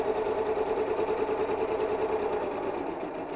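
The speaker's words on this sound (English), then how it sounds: "I'm going to go backwards just a couple of stitches before I go forwards, just to secure those straight stitches and stop them coming undone." A sewing machine runs steadily, stitching fabric for a storage cube, a continuous close-up mechanical whir with a fast, even needle rhythm throughout and no talking.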